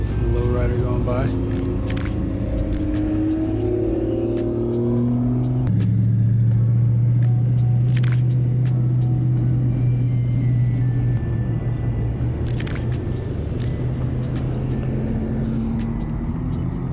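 A lowrider car rolls past at a cars-and-coffee meet, its engine giving a deep, steady low rumble that grows louder and then fades, with crowd chatter and other car noises in the background.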